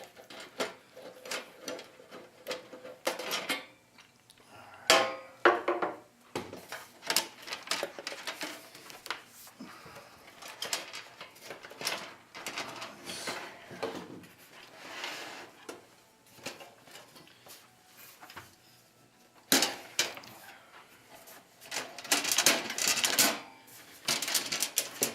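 Phillips screws are backed out of the cabinet of a 1958 RCA 14PT-8021 television, a close series of irregular metallic clicks, ratcheting scrapes and small taps with short pauses between bursts.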